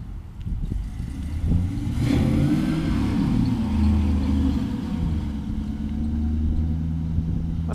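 V8-swapped Volvo 240 wagon engine revs up from a low rumble to a loud, sustained roar, then settles into a steady throaty drone, with no voices.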